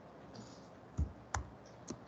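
Faint keystrokes on a computer keyboard, three or four scattered clicks over a low background hiss, with no voices.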